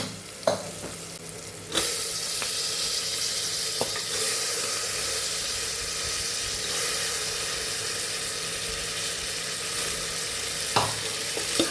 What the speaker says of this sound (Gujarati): તો અહીંયા આપણે આ ગુવારને ઉમેરી દેવાનું છે.